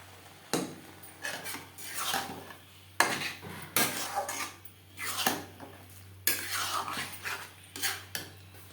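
Potatoes and pea paste being stirred in a pan over a high-medium flame, with repeated scraping and clinking strokes of a spatula against the metal in uneven bursts, close by and under a low steady hum.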